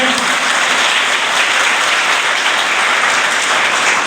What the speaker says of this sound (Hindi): एक बार जोरदार अपने लिए ताली बजाएं